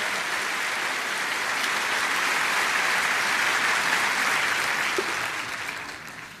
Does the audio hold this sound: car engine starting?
no